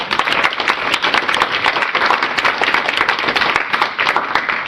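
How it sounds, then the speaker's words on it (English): A council meeting audience applauds a Williston Middle High School Student of the Month, with dense, brisk clapping from a room full of people, loud and close, holding steady for several seconds without pause. "Could we have a round of applause?"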